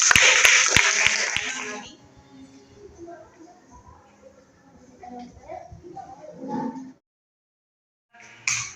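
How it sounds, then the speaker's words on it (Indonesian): Students in a university classroom clap together in a brief loud burst of sharp hand claps, then it fades into murmuring voices and quiet chatter. "Tepuk tangan dulu."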